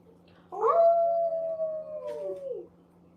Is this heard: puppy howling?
yes